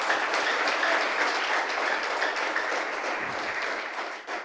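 Loud, dense applause from a church congregation in Manila fills the space. The clapping is steady and sustained for several seconds before tapering slightly at the end.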